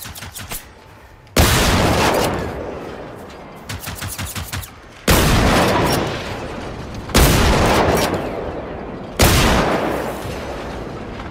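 Four heavy, booming shotgun blasts in Generation Zero go off one after another about two seconds apart, each with a long rumbling decay, while lighter mechanical rattling fills the gaps between shots.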